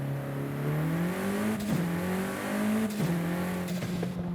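A car driving in the racing game Forza Horizon 5, its engine droning steadily and rising in pitch through the gears, with two brief shift dips, close and continuous with no talking.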